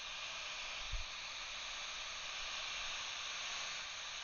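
A hot air heat gun reflows solder on a microphone socket, giving a continuous, even airy hiss with a brief low thump near the start.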